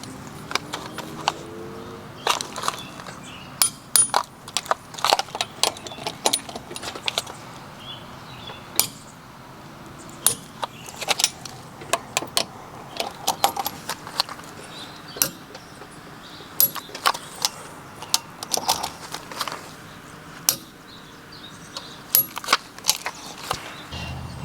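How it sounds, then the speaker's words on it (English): Metallic clicks and clinks of a 19mm socket on a torque wrench checking the lug nuts of a Porsche 986 Boxster wheel, set to 96 foot-pounds, as scattered sharp ticks over a faint steady background, with no talking. "We have a 19mm socket here. We are going to check the wheel torque."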